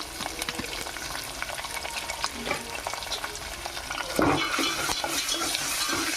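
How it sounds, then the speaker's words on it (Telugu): Spice paste with turmeric frying in a pan, a steady close sizzle with scraping stirs throughout that swells louder after a fresh stir near the end. "పచ్చి వాసన పోయేదాకా ఫ్రై చేసుకుందాం"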